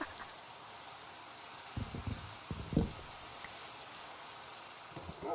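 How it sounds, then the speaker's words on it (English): Steady rain hisses across the scene in Minecraft, a continuous wash of falling drops with a few soft low thumps and splashes partway through. "It's a great day for rain."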